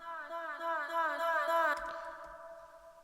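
A reversed vocal soaked in delay and reverb swells upward in pulsing repeats, then cuts off abruptly into a faint, quiet tail with soft low thumps.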